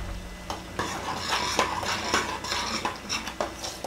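A spoon stirs garlic powder, seasoning salt and pepper into a pot for cheesy linguine alfredo, scraping and clinking against the metal in an uneven rhythm with a faint sizzle beneath, close and fairly quiet.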